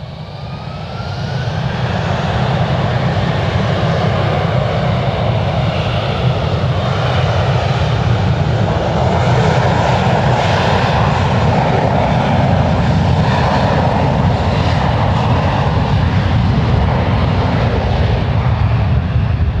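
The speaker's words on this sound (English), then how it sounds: "runway 1 right, clear for takeoff" Airliner taking off from runway 1 right at San Francisco International Airport, a loud, steady jet engine roar that swells within the first couple of seconds and then holds constant, close and dominant throughout.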